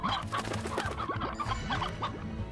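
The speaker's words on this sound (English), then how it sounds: "Maybe it's a rooster." Rooster clucking in the video game Slime Rancher, a run of close, busy clucks and chortles lasting the whole stretch with no talk over it.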